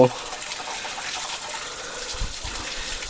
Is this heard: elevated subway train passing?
no